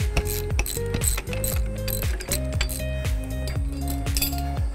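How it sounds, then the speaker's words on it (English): A ratchet wrench clicks rapidly and repeatedly while backing off spring compressors on a rear strut of a Honda CR-V RD1. The metallic ratcheting is loud and close, in quick rhythmic strokes with occasional clinks. "Now we can go through and remove these spring compressors"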